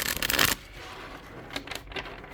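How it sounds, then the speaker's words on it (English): Cards being shuffled for a card reading: a loud riffle burst at the start, then a few soft, brief card flicks and slides afterward, close by with no voices. "so let's shuffle"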